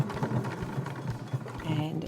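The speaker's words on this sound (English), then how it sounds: "I'm going to sew very close to the edge of the waistband" Sewing machine top stitching close to a waistband edge, a steady rapid mechanical whirr with rhythmic needle pulses running continuously through a short stretch, with a voice talking over it.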